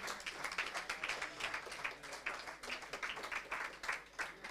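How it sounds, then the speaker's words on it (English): Audience at an Erasmus summer school physics faculty event clapping for a streaming technician, a moderate, fairly distant patter of many hands with a steady dense rhythm throughout. "An applause for Carlos Álvarez,"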